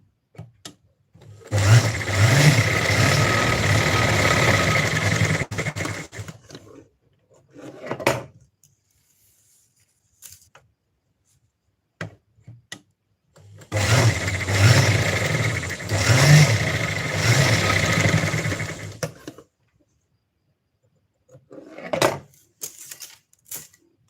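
A sewing machine stitching a sleeve runs in two long bursts of rapid mechanical whirring, each several seconds long, separated by quiet pauses with occasional handling clicks and brief short runs.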